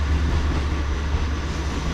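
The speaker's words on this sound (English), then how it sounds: "Thank you, train." A train rumbles past near a river during a fishing outing, a steady, fairly loud low drone with constant mechanical roar and no clear clatter, sustained throughout.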